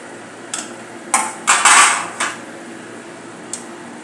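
Grated fresh coconut is stirred in a metal pan for mango ladoo, a spoon scraping and knocking against the pan in five or six sharp clinks and scrapes, close and fairly loud with quiet gaps between.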